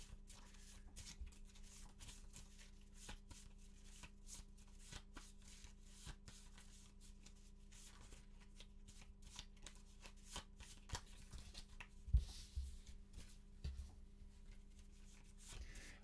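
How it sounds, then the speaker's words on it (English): Board game cards from Space Shipped being shuffled at a table, a steady run of soft riffling flicks and brisk card slaps over about sixteen seconds with a low hum underneath, fairly quiet and close. "Let's shuffle this up."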